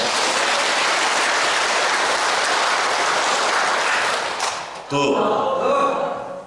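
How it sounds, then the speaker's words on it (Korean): Dense, loud applause from a church congregation at a Lent lecture fills the hall steadily for several seconds, then breaks off as a voice starts speaking. "박수 한번 쳐주십시오"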